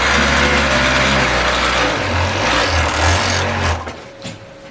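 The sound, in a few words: industrial sewing machine sewing seams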